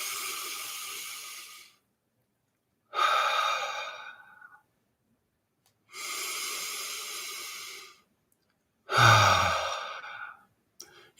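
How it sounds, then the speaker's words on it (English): Four slow, deep breaths, each a long airy exhale lasting one to two seconds, separated by pauses, close and clear with no talking. "start by taking 3 deep breaths and exhaling 1 breath at a time, kind of like this"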